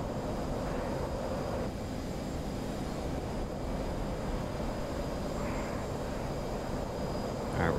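F-16 fighter jet engine in the DCS World flight simulator during a dogfight, a continuous low roar and rumble holding steady throughout with faint whistling tones above.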